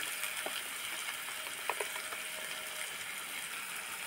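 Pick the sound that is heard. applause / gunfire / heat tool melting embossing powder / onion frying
onion frying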